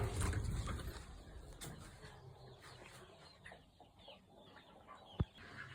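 Brooding hens in a farm chicken coop cluck softly and faintly against low background noise, with one sharp click near the end.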